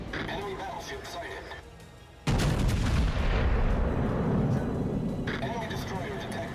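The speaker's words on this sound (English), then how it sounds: "Concentrate fire on the designated target." A battleship's main guns fire in World of Warships, a sudden massive boom that leaves a long rumbling roar, preceded by quieter game ambience and voiced callouts.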